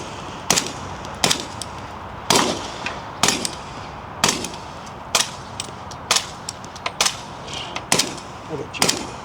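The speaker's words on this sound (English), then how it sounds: "these are on the same 9-inch 300 Blackout MCX, same ammo, 220 grain subsonic" A suppressed SIG MCX with a 9-inch barrel in 300 Blackout, firing 220-grain subsonic ammunition at an outdoor range: about a dozen sharp, muted reports at uneven intervals, with fainter shots from nearby between them.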